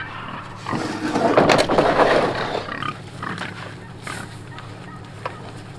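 Pigs grunt and snort close by on a farm, a burst of loud rough grunting early on that fades into scattered quieter snuffles and grunts.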